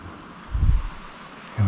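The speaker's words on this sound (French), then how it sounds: "Donc on entend beaucoup le vent s'engouffrer à l'intérieur." Wind gusts into an attic under the roof of an old house, giving a low hollow rumble that swells in the middle and again at the end over a steady airy hiss, with no talk.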